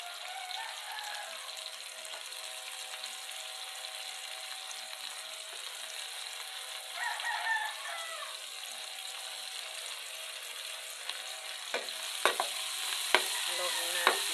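Onions frying in a pan sizzle softly and steadily while a utensil stirs them, with a few sharp scraping clacks of the spoon against the pan near the end.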